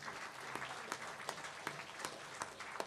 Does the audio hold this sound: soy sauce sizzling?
no